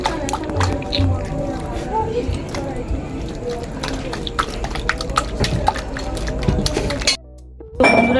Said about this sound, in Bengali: ভালো করে মেখে নেব যত ভালো ডিম মাখানো হয় তত ভালো ডিম ভাজি হয়